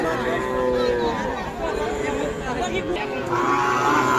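Cattle at a busy village livestock market in Dinajpur, a loud close moo rising and falling over a babble of crowd chatter, with people talking throughout.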